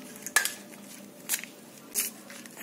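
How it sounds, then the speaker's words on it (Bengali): Spoon clinks against a bowl while mashed potato and egg are mixed, three distinct sharp taps spaced about a second apart between soft squishing strokes. "সব কিছু খুব ভালো করে এভাবে মিশিয়ে নিতে হবে"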